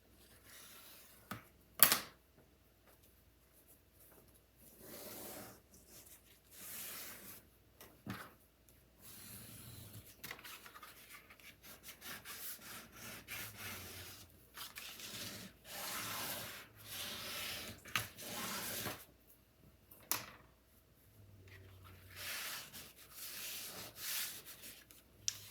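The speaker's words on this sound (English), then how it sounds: "Give that a good burnish." Soft, intermittent rubbing strokes of a burnishing tool pressed over a craft surface, quiet and close, in short scratchy bursts separated by pauses.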